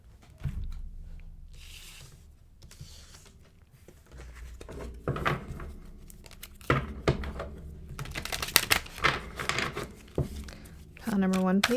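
Tarot cards shuffled and shifted around on a table, a run of soft riffling, crinkly slides and light taps that build toward busier bursts near the end, with faint background sounds.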